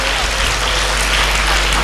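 A church congregation claps for the Lord in a dense, continuous burst of applause that fills the short moment at steady volume.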